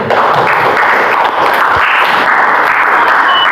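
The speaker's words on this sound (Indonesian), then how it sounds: "Kalau itu tepuk tangan untuk kita yang ada di sini" Students in a classroom applaud with loud, dense, continuous clapping that fills the room, steady throughout.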